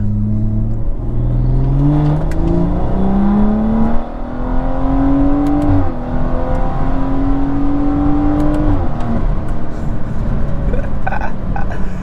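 A BMW F30 340i with the B58 engine in Sport Plus, traction control off, accelerates hard through the gears, loud rising engine pitch dropping at each upshift, several pulls in succession heard from inside the car.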